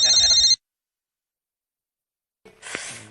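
Ringing telephone in a home: a short electronic ring burst that cuts off abruptly, followed by silence and then a sigh and breathing close by.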